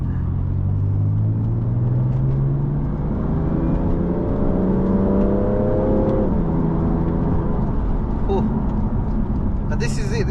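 BMW F82 M4 Competition engine revving up to about its 7,500 rpm redline: a loud, steady in-cabin rise in pitch over about six seconds, then an upshift drop, with continuous road rumble throughout.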